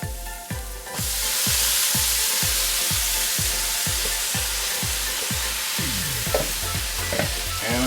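Collard greens hit melted butter in a pan and break into a loud, dense sizzle that holds steady, with a regular thumping beat pulsing underneath the whole time.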